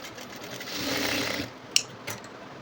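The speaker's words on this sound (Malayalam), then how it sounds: "ഇവിടെയും ഒരു സ്റ്റിച്ച് ഇട്ടു ഇത് നമുക്ക് രണ്ട് സ്റ്റിച്ച് കൊടുക്കാം" Sewing machine running steadily while stitching a back-open blouse, a continuous close whir for about a second and a half, then stopping, followed by a couple of sharp mechanical clicks.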